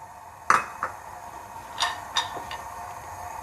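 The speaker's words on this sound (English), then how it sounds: "we are going to dry roast all the nuts first. So I'm adding almonds," Almonds drop into a dry pan for roasting, giving a handful of sharp clicks and clinks, one loud at first and then several lighter taps spaced irregularly, close and otherwise quiet.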